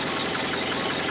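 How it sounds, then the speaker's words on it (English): A car engine idles steadily right after a jump start in the remote desert, a close, even mid-pitched rumble with a faint rhythmic knock and no talking. "Want to rev your engine a bit?"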